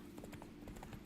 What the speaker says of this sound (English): This horse feels so good riding this horse.